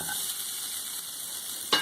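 Grated coconut roasts with spices, chilli, coriander and shallots in a pan for a vegetable theeyal, making a steady soft sizzle that ends with a brief utensil knock.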